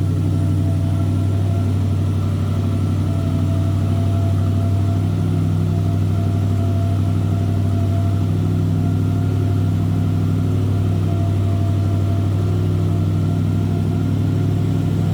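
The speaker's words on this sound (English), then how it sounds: "A little rumble coming out of that 283." A 1966 Chevrolet Chevelle Malibu's 283 V8 idles with a steady, low rumble, even throughout, deep and continuous with a throaty exhaust note and no voices.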